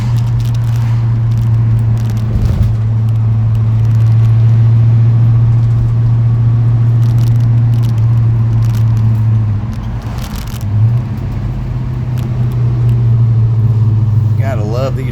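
A 1955 Chevy Bel Air cruising on Ohio roads, its engine a steady low drone with road rumble and occasional creaks and scrapes throughout, with people talking over it.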